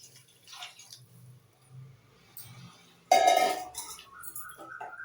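Water pours into a cooking pot for paneer biryani with a sudden splashing rush after a few quiet clinks, then trickles and settles.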